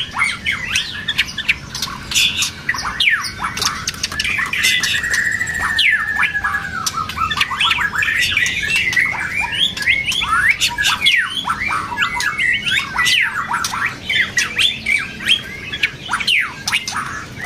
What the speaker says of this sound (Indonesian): Suara cililin tadi.